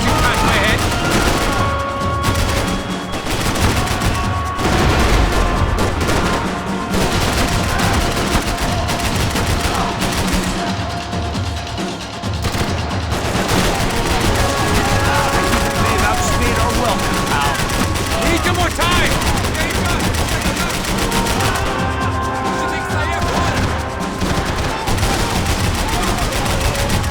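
Dense, loud gunfire from the Max Payne 3 video game: sustained automatic bursts and single shots with bullet impacts, nearly continuous throughout, with occasional shouted voices mixed in.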